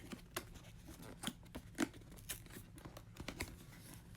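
Quiet tearing and ripping of a cardboard camera box being opened by hand in short irregular bursts, with small crinkles and scrapes between pulls, close by.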